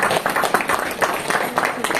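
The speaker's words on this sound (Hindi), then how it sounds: "तालियां बजाइए कृष्ण जी के लिए।" An audience claps for Krishna at a Hindi talk, a steady patter of many hands applauding at moderate distance, mixed with a voice speaking over it.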